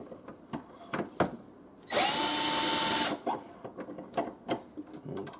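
A power drill spins a Lee Deluxe Quick Trim case trimmer on a brass cartridge case in one steady whirring burst of about a second, with scattered handling clicks before and after.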